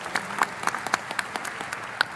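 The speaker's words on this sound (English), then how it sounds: "he's hearing the sound of this applause" Audience applause at a church general conference session in St. Louis, a steady patter of many clapping hands with scattered sharper claps, moderately distant and alone.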